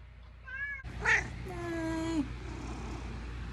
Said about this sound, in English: I have a cat that wants to come in.